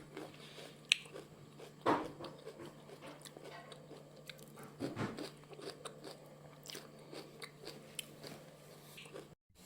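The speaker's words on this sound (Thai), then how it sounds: "กรอบดีอ่ะ มันจะกรอบกว่าสายบัวเนาะ" Crisp, close crunching and biting on a raw wild fuki stalk, a few sharp snaps followed by quieter chewing over a low steady hum, with no talk.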